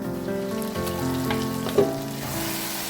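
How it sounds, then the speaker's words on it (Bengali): Beef for achari gosht being seared over very high heat, a continuous close sizzle with one brief scrape of stirring partway through, and no voices. "মাংসটা এইভাবে আমি খুব হাই হিটে কষাচ্ছি"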